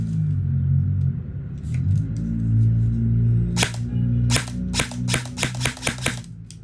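An E&C 840GY SAI T2 airsoft AEG is test-fired indoors: after a low rumble come about eight sharp, snappy shots in short irregular bursts, close and fairly loud.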